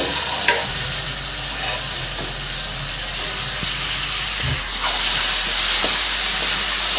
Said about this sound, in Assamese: ভালদৰে মই এইখিনি ভাজি ল'ম